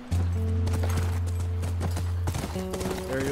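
A horse at a ranch in the video game The Last of Us, with loud, close hoofbeats clip-clopping in a steady rhythm, a brief whinny, and a low musical drone underneath.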